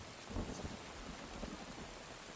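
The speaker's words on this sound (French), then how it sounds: "Il pleut dans le jeu." Steady rain hissing in Uncharted 2: Among Thieves, a dense, even patter with faint low rumbles underneath, quiet and continuous with no voices.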